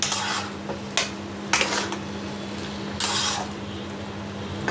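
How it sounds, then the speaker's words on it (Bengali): A utensil stirs food in a metal cooking pot, with scraping clatters in several distinct bursts over a soft steady background hum, close and moderately loud. "ভালো করে নাড়াচাড়া করে আমি জল দিয়ে ঢাকা দিয়ে দেব"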